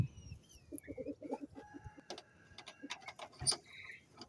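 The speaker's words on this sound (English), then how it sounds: "prospective roosters from my Seramas that I'm growing out." Young Serama roosters cluck and attempt short crows in a busy yard, several birds calling near and far, with scattered clicks and small knocks throughout and no talking.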